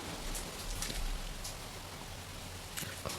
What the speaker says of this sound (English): it just started hailing here. I'm gonna have to close my window.